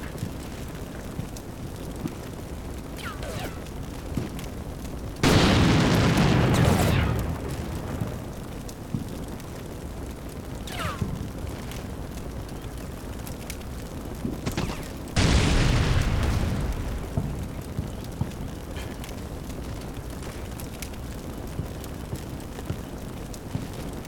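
Two loud, heavy blasts about ten seconds apart as tank shells strike an Abrams in a Combat Mission Black Sea battle, each a sudden broadband boom with a short rumbling tail over a quiet background.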